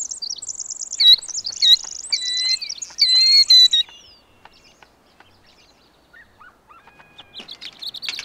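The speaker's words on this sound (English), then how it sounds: "calls of alarm as a killdeer tries to draw you away from its nest" Shrill, high-pitched alarm calls of a killdeer defending its nest, repeated rapidly and loudly at first, then fading to sparse faint notes before a few more calls rise near the end.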